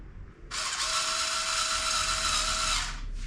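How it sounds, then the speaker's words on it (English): Electric power tool drives screws into a GB Racing engine cover on a 2022 BMW S 1000 RR track bike, one steady whirring run of about two seconds, close and loud, starting abruptly and stopping cleanly. "Now be careful with electric tools"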